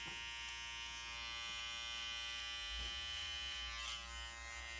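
Electric hair clipper buzzing steadily and close while cutting a tapered outline at the hairline, a constant faint hum with slight changes in pitch as it moves, no talking.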